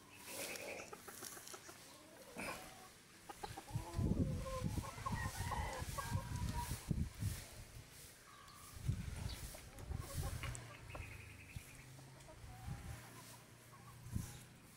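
Several gamecocks cluck and squawk in bursts close by, with occasional crowing-like calls amid outdoor background noise.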